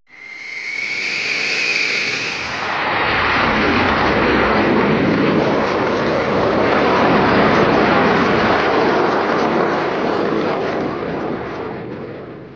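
TAI HÜRJET jet trainer aircraft flying past, a loud sustained roar that starts with a high whine and swells into a broad, steady rushing noise lasting many seconds.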